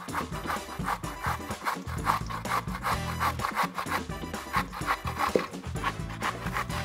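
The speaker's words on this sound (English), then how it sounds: "Next, we're going to grate a courgette straight into the mixing bowl." A courgette is grated by hand into a mixing bowl, with rhythmic rasping strokes scraping steadily and close throughout.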